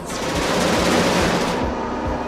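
Defense turrets in the space shooter Genesis Alpha One fire at aliens in loud, continuous rapid bursts, a close and dense barrage of gunfire with rhythmic low thumps underneath.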